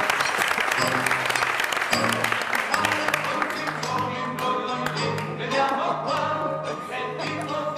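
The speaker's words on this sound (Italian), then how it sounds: "accogliamolo con un applauso" An audience at a comic theatre show claps in welcome, brisk sharp applause under music with sustained tones, the clapping thinning as the notes carry on.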